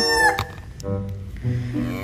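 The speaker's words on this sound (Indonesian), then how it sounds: "Yang ini ada ayam berkokok." A rooster crows among a collection of farm animals, a loud, fairly close call with a bright harmonic opening that dips into a lower drawn-out tail, heard alone over about two seconds.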